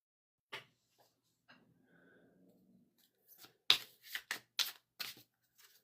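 A deck of cards is shuffled in a quiet room. Scattered soft taps lead into a quick series of sharp, crisp riffling snaps near the end.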